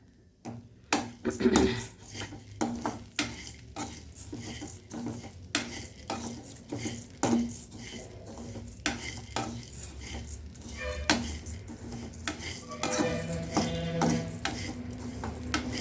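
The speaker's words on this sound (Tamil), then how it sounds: "சிகப்பரிசி அவுள் நல்லா வறுத்துக்கிச்சு, போட்டுக்கலாம்" Red rice flakes (aval) roasting in a pan for drumstick laddu, with repeated scraping and clinking of a spoon against the pan in an irregular rhythm, a soft crackle under it and a brief voice in the background.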